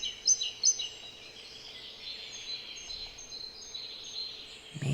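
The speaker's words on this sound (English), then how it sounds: "Listening to the different tones, different pitches of these calls." Faint bird chirps sound from a distance, a few sharp calls near the start and quieter tweets scattered after, over a low steady outdoor hush.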